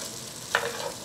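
Diced beef steak and potatoes are stirred in a pan, giving a single brief scrape of the spoon against a soft, steady sizzle.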